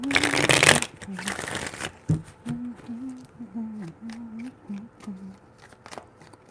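Tarot cards are shuffled close up, with a dense burst of riffling followed by scattered light slaps and taps, while a low voice murmurs underneath.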